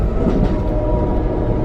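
An Amtrak California Zephyr train rolls loud and steady on its rails, a dense continuous rumble heard from onboard with no talk.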